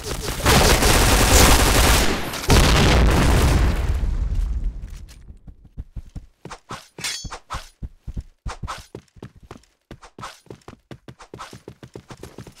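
Grenade blast in the Point Blank shooter game, a loud heavy explosion rumbling for a few seconds, then dense rapid bursts of gunfire crackling on, close and sharp.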